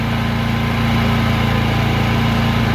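A Predator 9500 portable gasoline generator runs loud and close by, holding a steady droning hum at slightly raised RPM with no break or change across the whole stretch.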